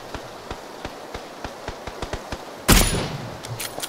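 Rapid single gunshots from PlayerUnknown's Battlegrounds, a steady run of sharp cracks about every quarter second, then a louder burst of noise near the end with a few scattered shots after it.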